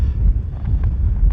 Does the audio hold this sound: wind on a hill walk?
yes